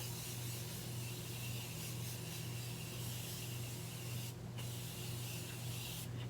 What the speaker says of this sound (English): I'm gonna go ahead and give myself another spritz of this setting spray